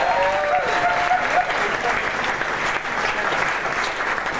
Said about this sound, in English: Can I have a round of applause, please, for Mr. Tim Harris?